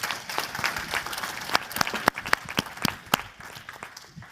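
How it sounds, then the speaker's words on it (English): Sparse clapping from a panel session audience, a scattering of individual claps that starts fairly full and thins out toward the end, heard without talk. "Round of applause"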